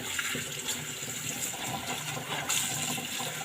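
Spinach being rinsed under running tap water in a sink, a soft continuous splash and gush at close range, fairly quiet and steady with small swells as the leaves are moved.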